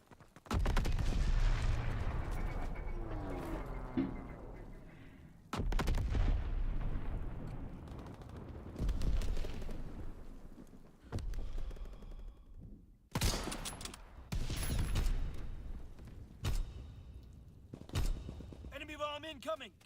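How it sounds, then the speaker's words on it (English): Video game battle with incoming enemy bombs and gunfire: heavy booming explosions and rattling bursts of shots come in several waves, loud and close, with a voice speaking between blasts. "Enemy bomb incoming. Get to cover."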